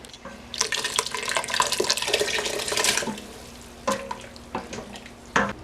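Canned peas and their liquid dumped into a soup pot for chicken and dumplings, a wet splashing pour for about three seconds followed by a few softer plops and clinks.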